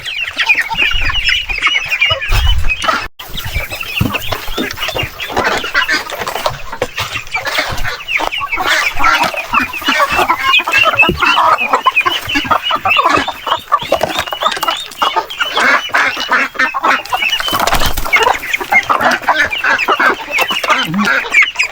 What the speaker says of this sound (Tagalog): hindi nagwawala pag pinapakain tong mga native na manok